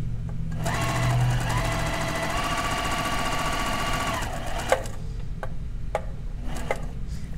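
A sewing machine stitches steadily for about four seconds with the needle and presser foot down, then stops, leaving a few sharp mechanical clicks.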